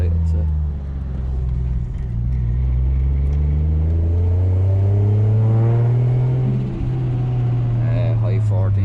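A car engine revs and pulls through a lap around the block, a loud steady drone that rises and falls in pitch through the gears, close inside the cabin, with someone talking over it.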